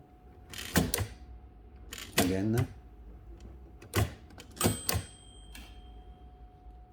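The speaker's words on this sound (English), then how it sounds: "when you press the button on the keyboard, the carriage stops here." A 1922 Empire 2 typewriter's carriage runs along and halts at a set tabulator stop, giving several sharp mechanical clacks and thumps spaced over a few seconds, with a brief spoken word between them.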